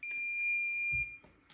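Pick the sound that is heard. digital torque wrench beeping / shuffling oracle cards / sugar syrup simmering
digital torque wrench beeping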